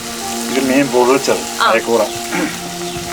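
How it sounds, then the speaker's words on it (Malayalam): Onion roasting in a pan with tomatoes, giving a soft sizzle underneath, while someone talks loudly and almost continuously close by. "അപ്പൊ ഇതിനെ ഞാനൊന്ന് ഉള്ളി റോസ്റ്റ് ചെയ്തേക്കാണ്."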